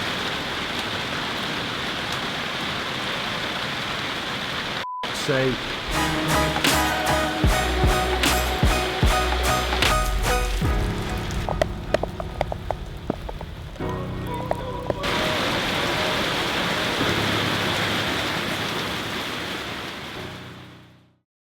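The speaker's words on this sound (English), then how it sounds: "The rain's not disappearing" Steady rain hisses down throughout, with a stretch of denser pattering drops in the middle, and a voice says a single word before the sound fades out.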